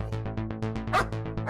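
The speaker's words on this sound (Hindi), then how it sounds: "ये कुत्ते इतना क्यों भौंक रहे हैं?" Dogs bark in a rapid series of about a dozen sharp, close yips and barks, some overlapping, near a tethered cow in a home setting; no one speaks.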